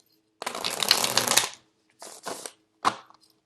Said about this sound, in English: This is a new deck, and it is very, the cards are very thick and stiff, so it's really hard to shuffle.